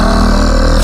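World Serpent roar from the 2018 God of War video game: a dense, continuous low growl with a steady rumbling pulse, loud and close, sustained without break.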